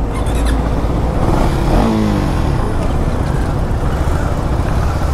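A KTM Duke 390 motorcycle engine revs and pulls hard, a loud, steady roar close by with a short rising sweep of acceleration near the middle.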